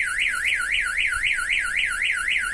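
A Vauxhall Combo van's StarLine security alarm, triggered by a motion sensor, wails continuously in a fast rising-and-falling siren pattern, steady and close, with no other sounds.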